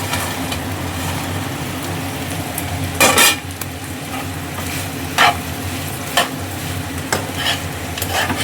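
Fried potatoes being stirred in a pan for spicy chilli potato: constant sizzle beneath loud, close scrapes and clanks of a spatula against the metal pan, coming every second or so.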